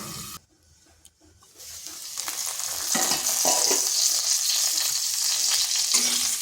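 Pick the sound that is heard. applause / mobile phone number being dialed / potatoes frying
potatoes frying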